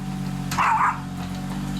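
A dog gives a single short bark at middle distance over a steady low mechanical drone from lawn-laying work in a garden, and no one speaks.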